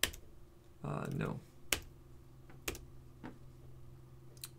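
Commands are typed on a computer keyboard for network equipment: a brief burst of key clicks followed by a few sharp single keystrokes, faint and close.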